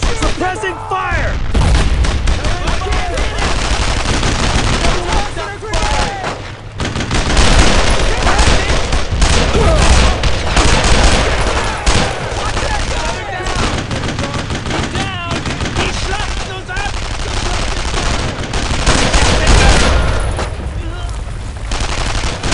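Sustained suppressing gunfire in the World War II shooter Brothers in Arms: Road to Hill 30, with dense, continuous bursts of rifle and machine-gun fire and scattered booms, loud and close, with voices shouting in places.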